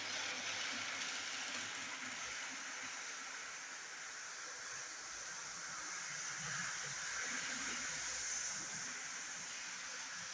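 A model railway DRS Class 66 locomotive hauls a container train along the track, giving a steady, hissing running noise with a soft rumble. The sound is continuous and fairly faint, with a slight rise and fall as the train moves.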